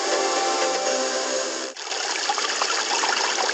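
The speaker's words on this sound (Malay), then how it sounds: "Bunyi air ini mungkin biasa bagi kita, tetapi luar biasa bagi mereka di Yaman." Running water flows in a steady, hissing stream, briefly dipping and then resuming with a slightly rougher, splashier texture, with no voices present.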